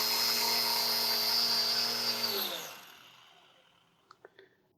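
A small RC plane motor spins a propeller in a loud, steady, high whine, then winds down after about two seconds, followed by a few faint clicks.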